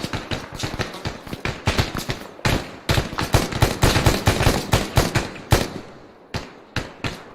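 Hostile police open fire in ARMA 3, a dense run of sharp gunshots and rapid bursts of automatic fire, loud and close, thinning to scattered single shots toward the end.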